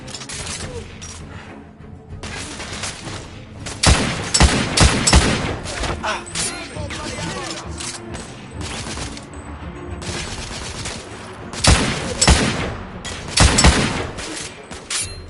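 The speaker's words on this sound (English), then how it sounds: "Under heavy fire!" Heavy gunfire in the third-person shooter The Order: 1886, dense bursts of shots and crackling volleys that swell and fade in waves, with some voices in the mix.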